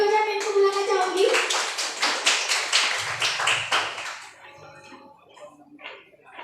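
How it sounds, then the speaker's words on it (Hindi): An audience at a women's empowerment event claps together in a burst of rapid, close applause lasting several seconds, with a voice speaking over the start and the clapping then thinning to scattered claps. "चलिए सर जी का एक बार जोरदार ताली हो जाए"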